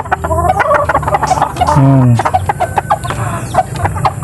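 Young backyard chickens, about two months old, cluck loudly and close up in a busy, overlapping chorus, with one longer drawn-out call in the middle and no talking.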